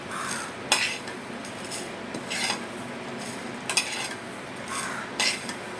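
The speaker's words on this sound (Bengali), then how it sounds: "এই দেখো এরকমভাবে ভাজাটা হচ্ছে।" Spices for a pickle masala dry-fry in a pan, a soft sizzle under repeated scraping strokes of a spatula against the metal, coming in short bursts about every second or so.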